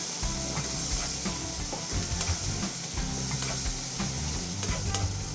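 Fish sizzles steadily in a hot frying pan while a utensil scrapes and stirs in a repeated rhythm, close and loud.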